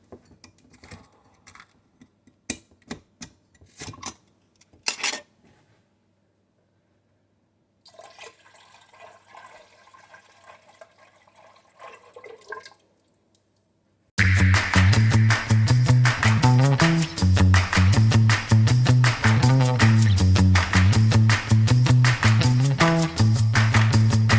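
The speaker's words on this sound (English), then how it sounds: "So I have my milk on the stove here now, and I'm just going to add all my milk." Goat milk is poured into a pan on the stove, a soft running liquid sound that lasts a few seconds after some scattered clatter. Loud music then takes over and plays to the end.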